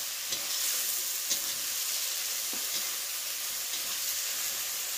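Meat sizzles steadily in a pan while it is stirred, with a continuous hiss and a few soft scraping strokes at intervals. The sound is close and fairly quiet, and no one speaks.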